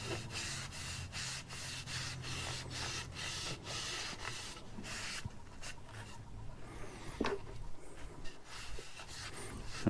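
Hand sanding of a wooden segmented bowl, steady rhythmic rubbing strokes close up, gradually becoming softer and more irregular toward the end.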